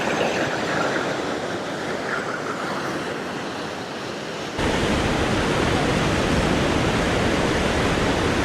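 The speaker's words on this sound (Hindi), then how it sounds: "तो यहाँ पे आप फोर्स देख सकते हो पानी का, कितना तगड़ा फोर्स है।" A strong mountain river rushes beside the trail from Gaurikund to Kedarnath, its dense, steady roar filling the scene and growing noticeably louder partway through, with no voices heard.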